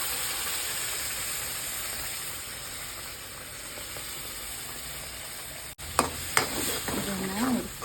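A ground paste of tomato, coconut, cinnamon, cloves, cashews and green chillies for a soya kheema curry fries in a pan with a steady loud sizzle, then a spoon scrapes and clatters as it is stirred.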